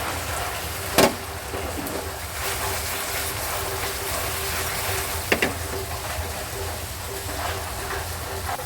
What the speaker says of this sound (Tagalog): Grabe, umuulan na naman ng malakas